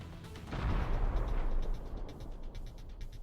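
A deep, heavy blast from a mine destroying a tank in wartime combat, a rumbling boom that swells and lingers for a few seconds with scattered crackling pops behind it.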